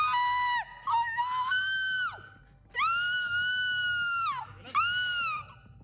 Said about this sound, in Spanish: súbitamente, aparece la Caperucita Roja gritando de susto